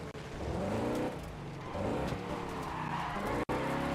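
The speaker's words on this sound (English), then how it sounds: "Does that sound like actual brakes?" In the Wreckfest 2 demolition derby racing game, a car brakes hard and its tires squeal and skid over a continuous engine roar, loud and sustained with shifting pitch.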